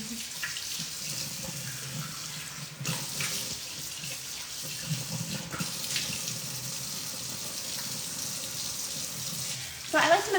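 A tap runs steadily into a sink while skin is rinsed, making a continuous close splashing hiss with small shifts in the flow, and a brief clatter near the end.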